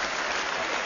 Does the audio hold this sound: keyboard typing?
no